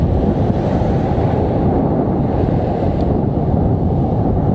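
Strong wind and big waves at a fishing shore, a steady, loud roar of surf and gusting wind buffeting the microphone throughout, with no voices.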